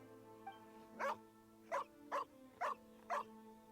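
A dog in Genshin Impact barks five times in a steady run, clear and fairly close, over a quiet sustained game music drone with no talking.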